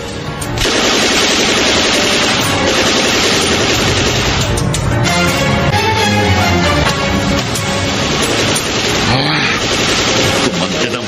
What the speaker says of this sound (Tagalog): Gagantihan ko ng putok ang mga kidnapper!